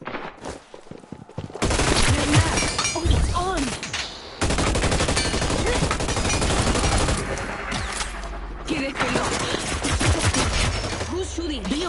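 Gunfire in the video game Hyper Scape, loud sustained automatic bursts and rapid shots nearly filling the clip, with brief pauses between volleys.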